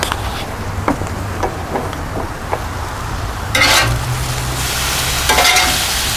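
Chicken cheese steak with peppers sizzles on a Blackstone flat top griddle, a steady loud fry broken by scraping spatula strokes and stirring clatter, with a louder sizzle surge midway.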